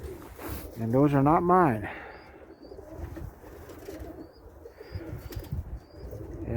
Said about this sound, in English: it's the first time I've seen a big flock like that fly by my house